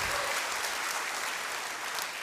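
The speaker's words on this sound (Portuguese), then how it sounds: "aplauda o Senhor em nome de Jesus" A church congregation claps steadily and continuously, a dense and fairly loud wash of applause filling the whole moment with no break and no talking.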